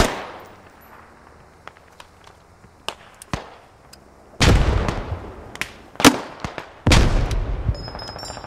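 In a squad-based shooter match, a frag grenade blast lands amid scattered gunfire, with sharp cracks spread through the clip and two heavier booming bursts standing out loudly.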